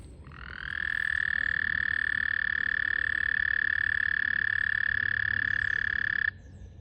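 The season's first frogs sing near water in one sustained, loud trilling call that holds steadily for about six seconds and then cuts off abruptly, heard alone over a faint background.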